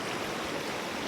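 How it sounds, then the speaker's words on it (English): A creek flowing outdoors on an overcast day, steady broadband rushing water that stays even and continuous throughout, with no voices. "Yeah, the creek is"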